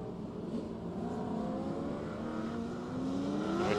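Race cars, including a Camaro, pull out onto the track at a circuit race meeting, giving a steady engine drone with rising revs that builds slightly louder toward the end, heard alone at a distance.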